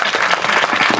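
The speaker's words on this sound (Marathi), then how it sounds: "तरी एकदा अपेक्षा आहे जोरदार टाळ्या तुम्ही वाजवा," Applause from the audience at a kirtan: dense, sustained hand clapping from many people fills the moment, loud and close, with no voices heard.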